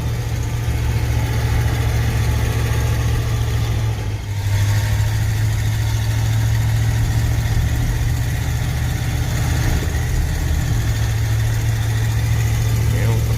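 A 1994 Ford F150 pickup with a converted C6 automatic transmission is driving in third gear. Its engine makes a loud, steady, low drone heard from inside the cab, holding even for the whole stretch.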